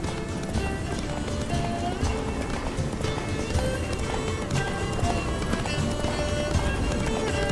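A horse gallops in The Witcher 3: Blood and Wine, fast, steady hoofbeats close and loud throughout, with a game score playing underneath.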